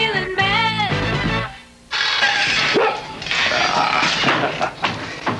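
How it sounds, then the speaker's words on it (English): Dog barks in a 1981 television commercial for Alpo beef-flavored dog food, a few close bursts set against music and a voice before and after. "Oh, I love this dog."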